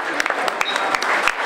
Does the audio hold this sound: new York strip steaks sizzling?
no